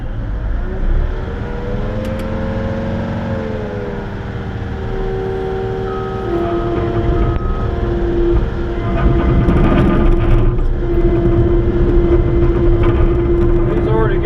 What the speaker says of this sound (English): we'll see if I can run this is a Mustang skid